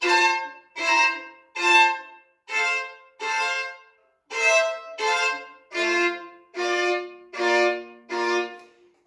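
Eleven short, bright bowed three-note chords in a steady rhythm, each ringing with several notes at once and separated by brief gaps.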